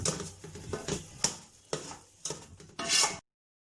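A spoon stirs crushed red chili into sarson ka saag in a pot, with a run of soft scraping and clinking strokes, then a brief louder scrape before it stops.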